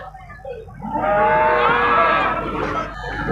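A cow lets out a long, loud moo that swells and fades at the Talgachhi cattle market in Shahjadpur, Sirajganj, with a busy crowd murmuring underneath and another low call starting near the end.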